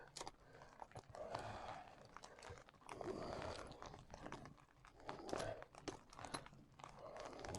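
Scissors or shears cut through a solid plastic zip during garden work, giving repeated crunching, crinkling snips in bursts of effort, close and moderately loud with no talking.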